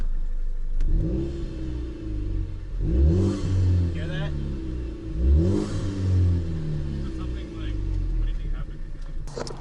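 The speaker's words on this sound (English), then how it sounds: "I was just getting on the gas a little bit, and it just went and like lost all pressure" A car engine revs up in two close surges, pitch climbing then sagging off as it loses boost pressure, with a brief higher whine near the end.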